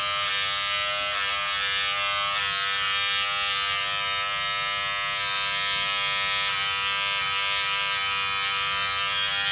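A Lingke or Shengfa electric shaver buzzes steadily and loudly at close range, one continuous motor drone with a sharp harmonic whine and no talking.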